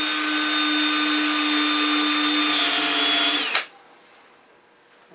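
A power drill spins a Forstner bit through wood, a loud steady whine for about three and a half seconds before cutting off abruptly into near silence.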